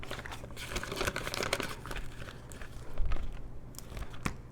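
Paper cash bills being stuffed into budget envelopes, with close crinkling, rustling and soft paper handling in quick irregular bursts.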